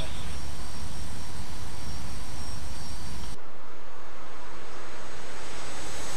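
Aircraft engine roar in a military flight game as a plane comes in to land on a pad, a loud steady drone that drops sharply in level partway through, with voices talking over it.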